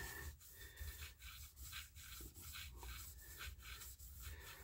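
A rag with polishing compound is rubbed back and forth over a crankshaft journal, giving a steady, rhythmic swishing friction at a regular pace, close but faint.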